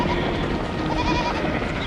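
A herd of goats bleats in a Trainz train game scene, a steady dense chorus of overlapping bleats at even loudness throughout, with no talking.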